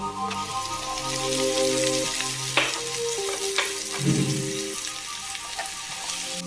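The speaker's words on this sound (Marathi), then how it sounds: "पळीने हलवत ठेवूया। नंतर आपण टाकूया त्याच्यामध्ये टोमॅटो।" Tomatoes drop into a hot pav bhaji pan and sizzle loudly while a ladle stirs and scrapes through the mixture, with a steady frying hiss throughout and a burst of fresh crackling partway through.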